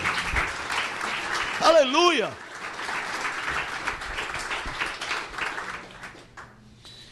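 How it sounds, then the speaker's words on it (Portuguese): A church congregation applauds in a steady wash of clapping, while a man exclaims loudly over it partway through and the applause gradually tapers off toward the end. "Dê um aplauso para ele."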